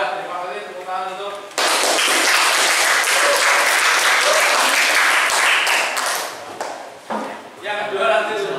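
Classroom audience applauding after a group presentation in a school lesson, loud dense clapping that swells and runs for several seconds, with talk before and after.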